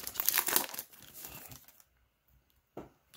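Pokemon 25th Celebrations trading card booster packs being torn open, loud close foil crinkling and ripping in a dense burst, then silence and one last short crinkle.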